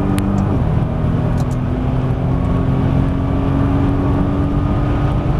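Nissan GT-R engine on a track, a loud, close, steady drone as the car accelerates back on throttle, with continuous road and mechanical roar throughout.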